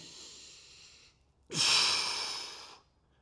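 Close, deep breathing during a band-assisted dual leg extension exercise: a soft breath, a short pause, then a longer, louder breath that fades out.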